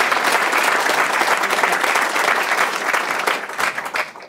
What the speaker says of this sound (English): let's give them a round of applause, and then Jeff's gonna come up